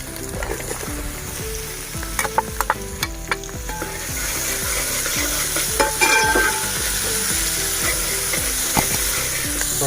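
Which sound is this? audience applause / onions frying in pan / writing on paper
onions frying in pan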